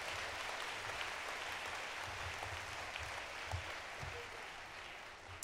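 Graduates applauded at a university commencement ceremony, a soft, distant, steady patter of many hands in a large hall, lasting several seconds with low rumbling underneath.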